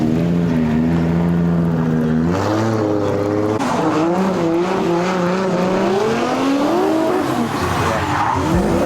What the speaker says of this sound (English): Adrian Wheatley now pulls out a gap with her PS13 Sylvia with the 2J power